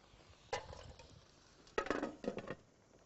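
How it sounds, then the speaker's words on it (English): Metal lid set onto an electric fry pan: a clink, then a few rattling scrapes and taps as it settles, close and fairly quiet. "this really now needs to have the lid put on"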